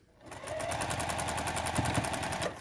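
Sewing machine stitching quilt block pieces, a steady fast mechanical whir with even rapid needle clicks, running for a couple of seconds close up before stopping.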